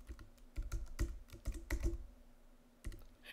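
Typing on a computer keyboard, quiet and close, with irregular clusters of sharp key clicks and a short pause before a final few strokes.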